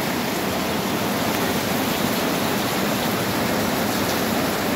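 Steady, dense rushing of heavy rain, a continuous broadband hiss with no breaks, fairly loud and close.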